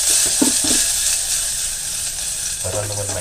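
Onion, garlic and ginger sizzling in a pan at the start of a perch fish soup, a steady hiss with a few soft stirring knocks, close, with a brief low voice near the end.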